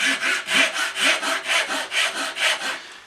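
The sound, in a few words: hand saw cutting a wooden tenon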